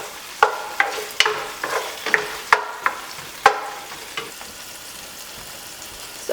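Onions and sweet potatoes sauteing over low to medium heat in a hot pan, with a soft sizzle under a series of sharp, spaced scraping and stirring clicks, close and clear with no talking.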